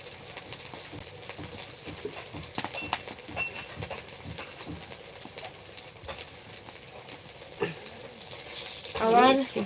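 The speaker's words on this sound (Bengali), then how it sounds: "আজকে এই মা বসেছে ভাজতে" Bottle gourd flowers frying in a pan, a continuous sizzle broken by scattered stirring knocks and scrapes, with a brief louder clatter near the end.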